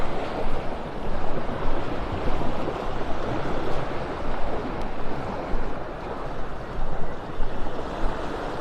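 Ocean surf rolls steadily onto a beach in North Naples, Florida, a continuous broadband wash with gentle swells and some wind rumble against the microphone, with no talking.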